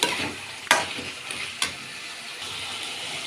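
Chicken frying with green chillies in a pan for Andhra-style chilli chicken: a steady close sizzle, broken by two sharp clacks of a utensil stirring against the pan.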